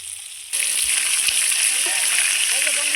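Pieces of fish frying in hot oil in a home kitchen give a steady, bright sizzle with small crackles, starting abruptly after a short quiet moment and continuing close and even to the end.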